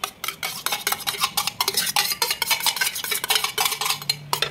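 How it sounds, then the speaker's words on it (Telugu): Spinach, mint and yogurt marinade being mixed into chicken for a green chicken dish, a close, steady run of wet squelching and scraping strokes with clinks against the dish, no voices. "అన్నీ వేసేసుకొని బాగా కలుపుకోవాలి"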